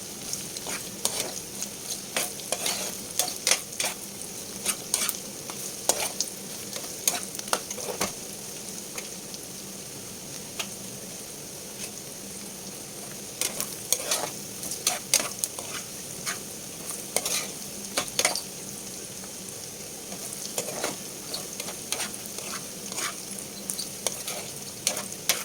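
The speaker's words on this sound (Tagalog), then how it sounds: "So yan, igisa lang po. Haluin lang po siya." Sautéed ginger is stirred in a hot frying pan for a Filipino chayote dish, a steady oil sizzle under repeated scraping strokes of a utensil against the pan, close and continuous.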